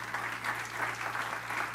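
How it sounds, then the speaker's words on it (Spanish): Congregation applauding during a Spanish-language church service, a steady, dense wash of clapping that continues evenly throughout without any voices over it. "Le puede dar un aplauso al Señor."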